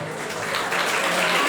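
A concert audience applauds a vocal group and a band, a short burst of dense clapping that swells slightly louder over the moment.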